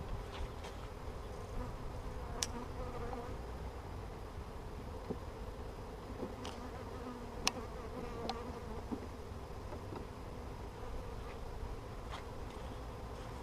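Honeybees buzz in a steady, dense hum during a mid-winter hive inspection. The drone holds close and continuous, and scattered sharp clicks and taps break through it.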